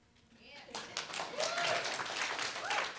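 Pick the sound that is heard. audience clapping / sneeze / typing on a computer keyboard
audience clapping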